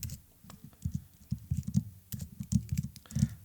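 Quick irregular keystrokes on a computer keyboard as a file path is typed at a Deno REPL, close and soft clicks arriving in short bursts with brief pauses, no speech.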